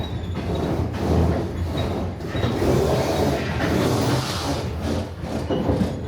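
A passenger train runs along the Binbei line toward Harbin in Heilongjiang, China, heard from onboard as a steady low rumble of wheels with rhythmic clatter and faint squeals, no voices.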